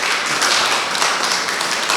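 Dense, continuous applause from a church congregation at an evangelistic meeting, many hands clapping together in a loud, steady wash with no clear individual beats.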